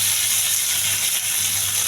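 Curry leaves, dried red chillies, garlic and spices fry in a generous amount of hot oil, making a loud, steady, close sizzle and hiss that runs unbroken throughout.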